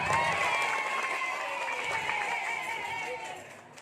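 Audience clapping and cheering fill a Maulid religious lecture at a pesantren in Sukabumi, a broad, steady crowd sound that stays loud and fades slightly toward the end, with a few voices mixed in.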